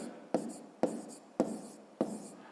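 Four firm, evenly spaced strokes of a pen or chalk are heard as a fifth-grade math exercise is written out by hand, each one a distinct close scratch.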